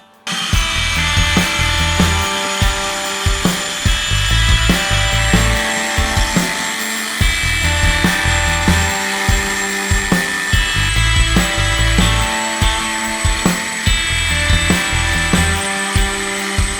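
Polishing machine buffing Turtle Wax into a rally prototype car's fresh paintwork: a loud, close motor drone with rhythmic surging and grinding pulses as the pad works the panel, no voices.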